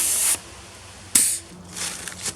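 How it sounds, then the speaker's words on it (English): Two short bursts of compressed air hissing as an air tank is hooked up beside a backhoe, followed by a fainter sputter and clinks of the fitting. "We'll go ahead and hook up this air tank."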